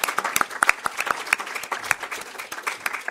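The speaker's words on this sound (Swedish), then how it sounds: "ni får förstås en varm applåd för detta" Warm applause from the audience at a Swedish panel event on refugee reception, a small crowd clapping steadily with distinct individual claps throughout, moderately loud and without talk.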